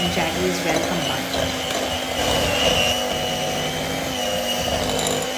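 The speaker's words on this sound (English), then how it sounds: "Whisk this really well until butter and jaggery is well combined." Butter and jaggery powder whisked together in a bowl, a close, continuous rapid scraping and rattling that stays steady throughout.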